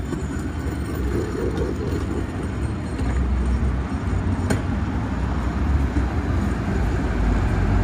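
The Seattle Monorail train running on its elevated tracks, a steady low rumble and whir that holds evenly throughout with a faint passing click.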